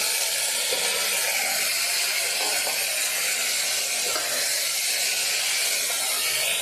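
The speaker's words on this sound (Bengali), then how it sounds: "এবার আমি ডালটা ঢেলে দেবো" Red lentils tumble into a pot of vegetables tempered with panch phoron for vegetable dal, giving a steady, bright rattling hiss that continues without talk.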